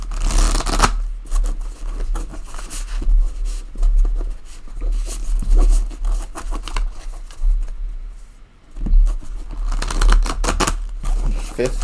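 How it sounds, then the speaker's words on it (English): Shuffling of a tarot deck, one of several passes in a row, giving dense crisp card riffles and slides close up, easing into a brief quiet gap before another burst of shuffling. "Fifth shuffle."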